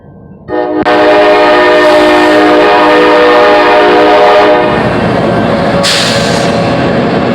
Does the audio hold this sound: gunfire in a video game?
no